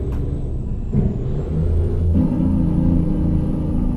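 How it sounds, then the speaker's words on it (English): A heavy truck engine in Euro Truck Simulator 2, an old Mercedes with a cattle hauler, rumbles low and steady, with a brief hiss of engine braking and a faint high whine above. "I wonder if we've got a brake saver on this engine."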